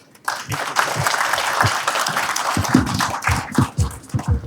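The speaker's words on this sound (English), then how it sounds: "I would rather say a big round of applause for Vishesh." Audience applause at a fireside chat on deep tech and venture capital, a dense, sustained wash of clapping from a room of listeners, with a few louder claps standing out near the end.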